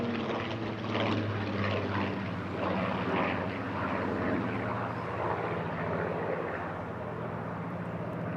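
A Battle of Britain Memorial Flight propeller aircraft flies over the Eastbourne International Airshow, giving a continuous droning engine note with steady harmonic hum, while a commentator talks intermittently over it.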